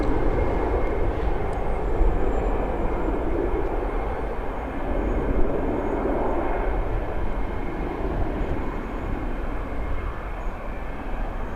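Passenger jet airliner taking off at Toronto Pearson Airport at night, a loud, broad engine roar holding steady from some distance, without talking.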